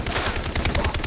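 Gunfire in the Far Cry 3 video game fills the moment with a dense, loud burst of rapid shots, heavy and close, with no voices over it.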